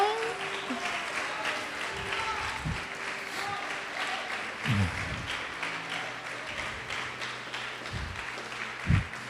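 A church congregation applauds and glorifies God during a sermon, giving scattered clapping under a continuous wash of crowd sound, with a few louder thumps and a voice speaking over it.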